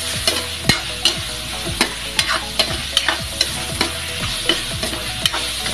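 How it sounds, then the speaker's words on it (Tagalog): Chicken macaroni sopas ingredients sauté in a frying pan with a constant sizzle, punctuated by a regular series of sharp spatula scrapes and knocks against the pan, close and fairly loud. "Binisa lang po natin sa kawali at inilipatin po natin mamaya sa kasirola para may sabaw."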